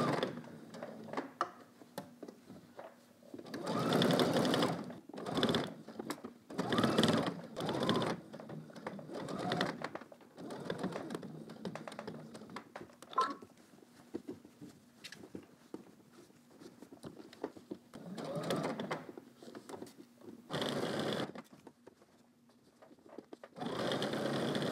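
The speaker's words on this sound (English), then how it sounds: "we're going to lift your presser foot up, straighten everything out, and then we're going to stitch across." A sewing machine stitches across fabric in short and long runs separated by quiet pauses. The needle rattles rapidly and sounds close by.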